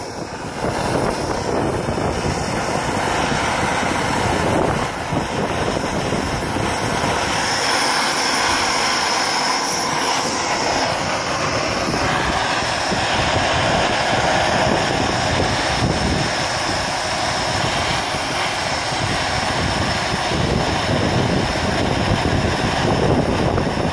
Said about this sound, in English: I'm gonna heat it up with my torch